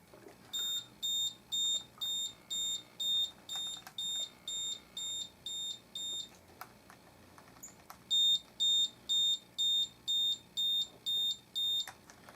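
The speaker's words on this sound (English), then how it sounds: "I'll start at my lowest power setting, which is the slowest output of sound and light" A Star Trek retro phaser prop replica at its lowest power setting gives off a series of high, evenly spaced electronic beeps, faint, in two runs separated by a short pause.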